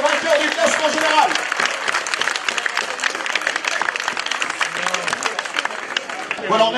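A crowd applauds a cycling race winner at the Tour d'Auvergne stage finish, with steady dense clapping throughout and some cheering, while an announcer's voice carries over it.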